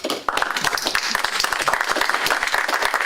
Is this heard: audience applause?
yes